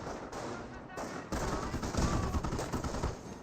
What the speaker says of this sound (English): Down here, we've got the snipers firing against the riflemen.